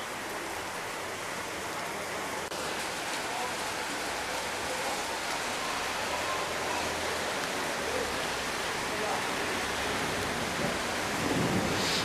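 Heavy rain pours down in a steady, dense roar during an August thunderstorm in Spain, loud and continuous with no break or distinct thunderclap.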